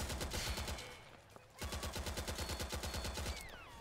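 Rapid automatic gunfire from the Roblox game Combat Warriors rattles in two sustained bursts separated by a short pause, loud and close, with brief tonal game effects near the end.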